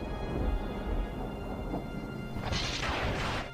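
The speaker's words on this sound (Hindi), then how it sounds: "तेज बारिश में शंभू किसी तरह सेठ के पास पहुंचता है।" Steady heavy rain pours down throughout, a dense hiss with low rumbling underneath, swelling louder toward the end.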